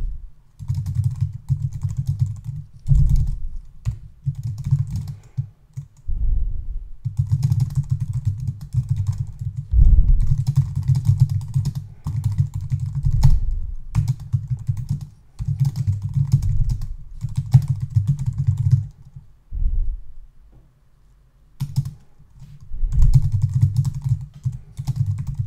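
Someone types steadily on a computer keyboard while writing a short title and description for a web shop landing page. The rapid, close clicking runs almost continuously, with only a few brief pauses.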